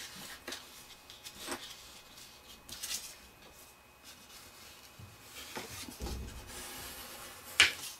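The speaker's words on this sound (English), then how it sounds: "I'm just going to use my ruler just to kind of burnish it down" A ruler rubbed along a folded magazine page to crease it flat, soft close scraping and rubbing strokes in short repeated passes, quiet against room noise.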